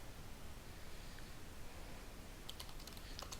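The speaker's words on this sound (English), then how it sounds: "I'm going to type test here" Faint keystrokes on a computer keyboard, a short quick burst of soft clicks near the end beneath a steady low hiss, recorded quietly in an otherwise still room.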